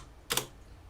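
A single short rattle of keystrokes on a computer keyboard, faint and close, sits in a quiet room.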